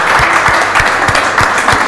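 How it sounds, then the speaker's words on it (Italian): Applause from a studio audience on a singing show, steady close clapping with a faint rhythmic thump under it, lasting throughout the short clip. "ancora un applauso"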